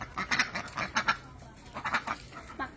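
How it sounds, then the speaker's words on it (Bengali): Village ducks quack in quick, bunched bursts of several calls each, fairly close, with short pauses between the runs. "দেখেন হাঁস পাক পাক করে ডাকতেছে"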